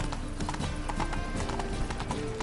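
Video game horse hooves clip-clopping in a steady walking rhythm on a PS4, with a faint neigh, layered over continuous game background sound and close, fairly loud.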